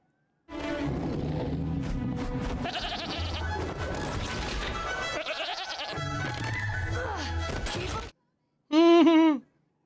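Sheep bleat in the animated film How to Train Your Dragon 2, a loud, wavering cry that comes at the end after a stretch of busy film sound.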